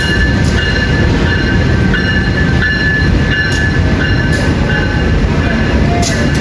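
The Jayabaya passenger train rumbles steadily into track 3 of an Indonesian station, with a constant mechanical drone and a high whine, suggesting a slow arrival along the platform.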